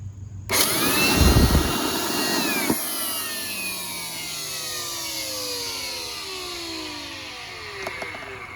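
A cheap shop vacuum roars to life with a loud, steady whine, then its pitch slowly sinks and fades as the motor winds down over several seconds.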